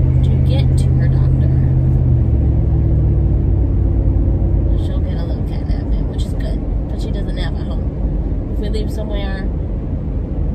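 A car drives along the road in a steady low engine and tyre rumble that fills the whole stretch, with faint chatter and higher clicks drifting over the continuous drone.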